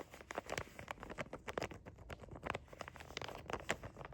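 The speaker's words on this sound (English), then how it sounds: "The dice came in this little bag." D&D dice rattle inside a small bag, giving quiet, close, irregular clicks and soft patter in a steady stream.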